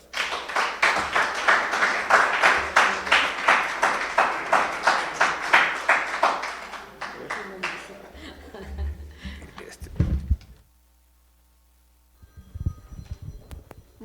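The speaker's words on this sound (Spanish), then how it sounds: "démosle un fuerte aplauso a nuestra amiga Margarita" A small audience at a mezcal tasting event claps in a rhythmic, accelerating pattern mixed with chuckles and murmured voices, then the clapping fades into brief silence before a voice begins.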